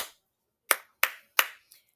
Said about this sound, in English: I would say the rhythm and then I would clap